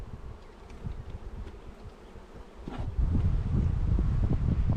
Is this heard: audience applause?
no